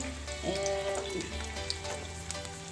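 Whole red chillies with garlic sizzle in hot oil for a Pakistani moong chana dal, a soft, steady crackle with a faint tonal hum running underneath.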